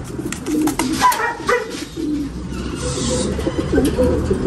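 Breeder pigeons cooing close by in a loft, soft repeated throaty coos in uneven bursts over a low background murmur.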